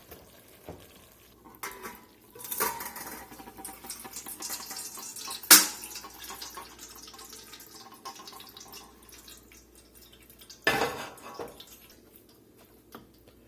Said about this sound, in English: Let's get it over in this colander and get it drained.